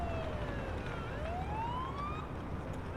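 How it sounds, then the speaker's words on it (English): An ambulance siren in the Ambulance Life: Paramedic Simulator game plays one tone that sweeps up and down, fairly faint over a steady low engine and traffic rumble. "there's no other siren tones. It looks like it is just a single tone here."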